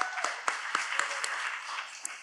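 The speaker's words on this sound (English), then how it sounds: "Y'all, let's give her a round of applause." A town hall audience gives a short, scattered round of applause, a few distinct claps standing out over a thin, fairly quiet patter in the room.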